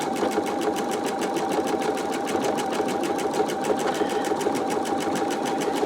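A sewing machine free-motion quilts a wide stipple design on a calico cats quilt in a magnetic embroidery hoop, its needle running in a steady, fast, even rhythm, close and continuous throughout.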